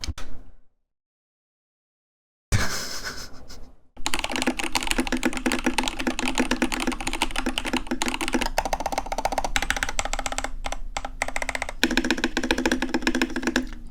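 Typing on a mechanical keyboard fitted with TTC Gold Pink switches, a dense, steady clatter of keystrokes close up after a brief silent pause, running on without talk.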